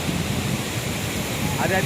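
A dense, continuous roar of falling water from Athirappilly Falls in Kerala fills the clip evenly, with a faint voice briefly audible near the end.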